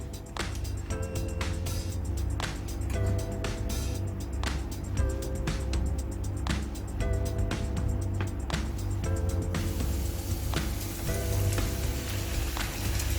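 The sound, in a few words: chicken frying in hot pan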